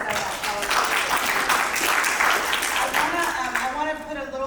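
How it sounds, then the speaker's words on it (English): An audience at an indoor conference session claps in a sustained round of applause, with a voice talking over it as the clapping fades near the end. "Big round of applause for each of you."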